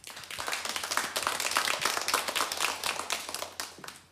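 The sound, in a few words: audience applause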